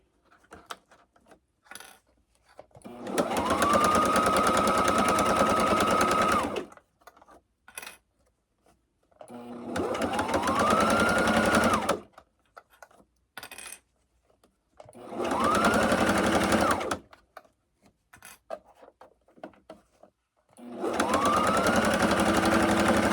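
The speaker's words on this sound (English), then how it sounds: "Make sure that presser foot is down. And then just sew it down that one edge." A domestic sewing machine runs in four bursts of a few seconds each while sewing down the edge of a quilted, padded zipper tablet bag, steady and close with quiet handling sounds in the pauses.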